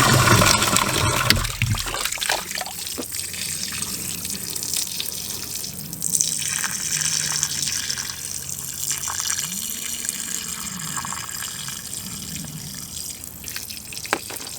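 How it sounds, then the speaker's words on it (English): Water drains out of a greenhouse water hydrant, a steady rushing flow that runs continuously and close by for the whole stretch, with no talk over it. "This is the hydrant draining out,"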